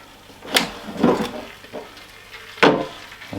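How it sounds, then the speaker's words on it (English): A Ninja Dual Zone air fryer drawer is pulled open, giving a couple of plastic clunks and a sliding scrape, followed by a sharper knock near the end, close and fairly loud in a quiet kitchen. "So let's open the drawer."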